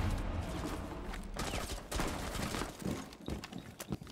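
Rapid gunfire bursts in a tactical shooter game, several sharp revolver-style shots cracking near the end over a dense, noisy background of game action.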